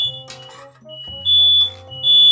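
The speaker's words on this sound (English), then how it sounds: "Shut up, fire alarms." A kitchen smoke alarm set off while cooking carnitas sounds with steady high-pitched electronic tones that come in long pulses, loud and close, over low clattering and humming in the background.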